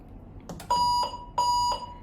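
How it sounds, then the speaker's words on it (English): A 400 watt electrosurgical unit sounds its E01 alarm after being switched toward monopolar mode: two loud, steady electronic tones, each held about a third of a second, with short clicks before them, close and alone. "We can see it is alarming and showing error code E01 on the display because the electric current circuit is not completed"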